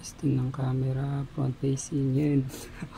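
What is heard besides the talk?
No everyday noises stand out.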